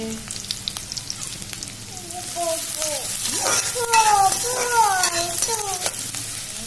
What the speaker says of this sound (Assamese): অলপ ভাজি ললোঁ অলপ গোল্ডেন ব্ৰাউন হ'ল